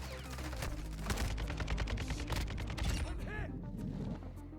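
Rapid bursts of gunfire from the Cast-off weapon in a Call of Duty match, sharp repeated shots in quick succession layered with game mechanism clatter, moderately loud throughout.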